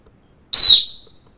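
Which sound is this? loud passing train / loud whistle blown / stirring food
loud whistle blown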